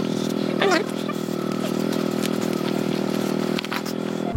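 A motorbike engine runs steadily nearby with a low, buzzing drone, while a person speaks briefly over it.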